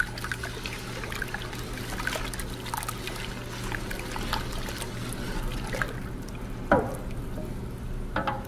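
Sugar is poured into hot water in a pan to make syrup for a bitter orange preserve: a continuous grainy trickle and light stirring, with a steady low hum underneath and a short louder clunk near the end.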